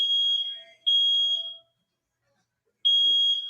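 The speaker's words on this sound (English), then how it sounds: "It's the fire alarm, Murphy. Not the smoke detector." A fire alarm sounds in loud, piercing electronic beeps: two long tones in quick succession, a silent gap of about a second, then another tone begins, with no talking.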